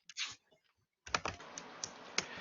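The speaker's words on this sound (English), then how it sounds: "going to be typing while we're doing this" Computer keyboard typing during an online math class, a short burst of keystrokes, then a quick run of close, distinct clicks with no talk.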